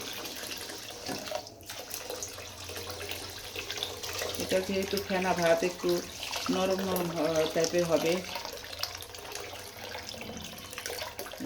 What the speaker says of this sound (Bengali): এখন এর ভিতর দিয়ে দিচ্ছি পানি পানিটা একটু বেশি করে দিতে হবে